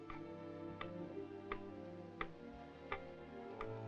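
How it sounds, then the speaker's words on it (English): A clock ticks at a slow, even pace, each tick sharp and distinct over a quiet, sustained musical background in an old Western film scene. "The tick of that clock begins to sound like thunder"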